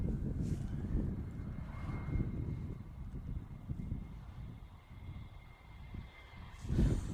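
An airplane rolls out after landing at Manchester Airport, a low, rumbling engine roar mixed with wind buffeting that heard from a distance swells and fades unevenly, with a stronger gust near the end.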